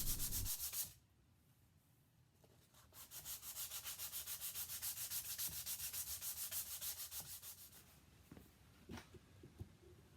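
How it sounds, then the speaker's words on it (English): Hand sanding a round-over on a wooden mallet handle made from firewood: rhythmic back-and-forth rasping strokes of sandpaper on wood, close and quiet, with a short burst at the start and a few scattered knocks near the end. "Lastly, some hand sanding to smooth out the round over."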